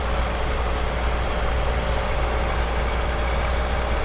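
A semi-truck engine with a Jake brake idles on a farm in Farming Simulator 22, a steady low rumbling drone that stays even and unbroken throughout, with no voices.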